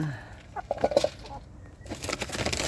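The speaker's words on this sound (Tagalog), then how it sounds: "Yan ang ating manok." Backyard chickens cluck softly nearby in a few short bursts, with faint rustling and outdoor background noise around them.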